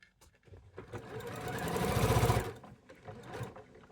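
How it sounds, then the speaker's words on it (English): Sewing machine stitching quilt block pieces for a sampler quilt, its motor rising into a steady rapid hum of stitching for about a second before stopping, with faint room noise around it. "you're just going to stitch along this line here. I'm going to do that now."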